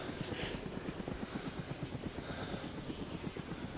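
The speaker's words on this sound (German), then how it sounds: "Startet der Heli?" Helicopter engine in the game Arma 2 DayZ, a steady rapid rotor chop pulsing evenly throughout at moderate distance, with no talk over it.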